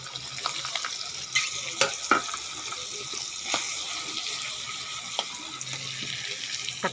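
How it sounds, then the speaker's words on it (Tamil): Chicken pieces fry in a small amount of oil for chicken varuval, a continuous close crackling sizzle with scattered sharp pops and brief stirring clatter. "கொஞ்சோண்டு எண்ணெயை ஊற்றி கறியை போட்டு சத்த வதக்கணும்."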